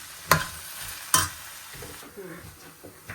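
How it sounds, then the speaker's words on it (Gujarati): Carrots and onions cooking in a pan on low heat, a quiet sizzle punctuated by two sharp metallic scrapes of a utensil against the pan, then softer stirring. "હવે જો ગાજર એડ કરી દીધા છે પાછા કૂક, કારણ કે ગાજર અને ઓનિયનને છે ને કૂક થવામાં વાર લાગે"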